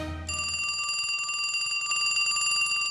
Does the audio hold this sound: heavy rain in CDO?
no